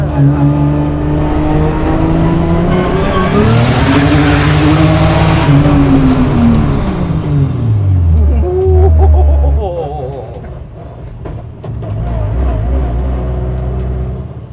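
A 700 hp 2JZ-powered Chevy Monte Carlo drift car revs hard and loud up close, its engine note climbing and falling through a sweeping rev before dropping to a rough idle and rising again.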